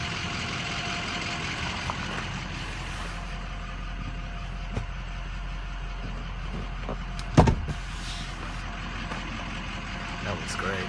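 A 2004 Ford F250 diesel pickup's power windows hum as they move, a low motor drone with a brief clunk midway against steady vehicle noise.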